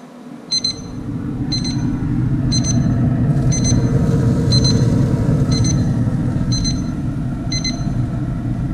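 A kitchen cooking timer beeps in repeated short high bursts, about once a second, over a steady low rumble while a bison ribeye cooks, with no talk.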